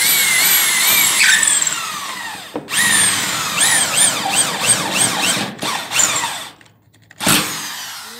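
A power screwdriver drives self-drilling screws into metal roofing sheets on a steel-framed roof, giving loud, close whirring bursts that rise in pitch with short pauses between screws and a final quick burst.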